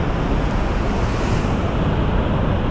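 Steady, powerful roar of Nevada Fall plunging at the top of the Mist Trail in Yosemite, a dense continuous rush of falling water close by with some wind buffeting, no voices.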